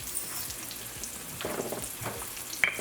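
Sliced onions and peppers fry in hot oil in a pan, a close, lively crackling sizzle with scattered pops and a brief sharp clink near the end, no voices.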